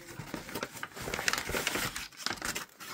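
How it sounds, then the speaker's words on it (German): A brown paper bag crinkles and rustles up close while an RC car is being unpacked, irregular bursts of crisp crumpling handled by hand. "Die obligatorische braune Tüte von Really."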